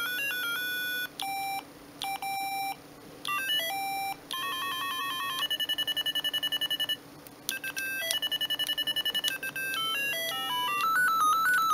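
Monophonic ringtones from a Siemens A52 mobile phone: a run of bright, thin electronic beep melodies with stepped single notes and short pauses between phrases, close and clear with no talking.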